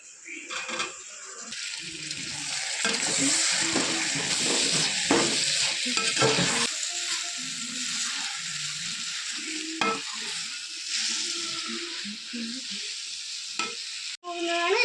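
Tomato and green chili frying in a hot pan, a steady bright sizzle with stirring scrapes throughout, near and fairly loud, with a short break near the end.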